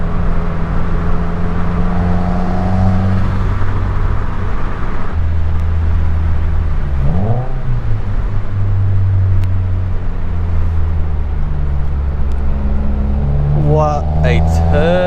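A Subaru WRX engine drones steadily and loudly through a POV mountain drive, with pitch swells as it accelerates and shifts between turns, while someone talks over it.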